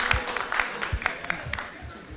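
An audience applauds for a committee at a conference conclave, with scattered claps forming a light, uneven patter over a murmur of voices.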